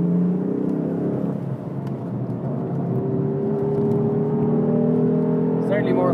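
A BMW car driving hard around the Mondello track, its engine droning steadily and loud throughout, with rising revs and tyre-and-wind noise from inside the cabin.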